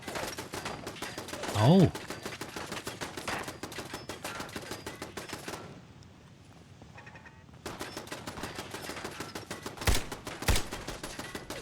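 An enemy fires on the player in Fallout 4 in rapid automatic bursts of close, loud gunshots. The shooting pauses briefly, then resumes with a few sharp heavy shots, and a short vocal exclamation comes early on.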